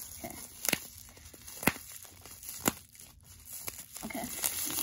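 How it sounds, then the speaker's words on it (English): Plastic packaging of a Schleich toy horse being cut and pulled open with scissors, irregular crinkling and tearing with a few sharp snips, close and fairly quiet. "Okay, I'm gonna open this one up. I might need scissors."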